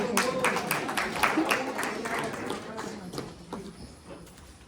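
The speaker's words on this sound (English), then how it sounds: "Just clap for them." A small audience at a talk on Maasai culture claps for volunteers, a brief burst of scattered hand claps that thins out and fades after a few seconds.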